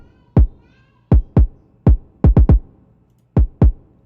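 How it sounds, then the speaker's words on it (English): A slightly distorted kick drum sample from an R&B beat pack hits alone in a loose pattern, about nine punchy, booming thumps with quick decays and clear gaps between them. "Then this is the kick I use, again from my pack. It's a little distorted."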